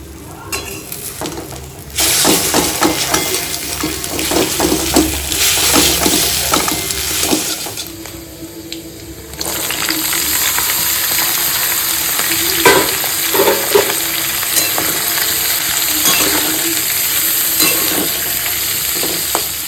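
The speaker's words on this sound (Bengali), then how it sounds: "তেলও দিয়ে দিয়েছি তো আগে ডিমগুলো ফ্রাই করে তুলে নেব" Oil sizzles loudly in a pan as eggs fry in a little oil while a spatula scrapes and stirs. The sizzle drops out briefly partway through, then returns and continues steadily.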